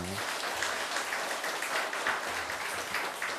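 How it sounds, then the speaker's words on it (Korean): Congregation applause in a Presbyterian church service welcoming new members, a steady wash of clapping from a crowd throughout. "우리 박수로 환영하겠습니다"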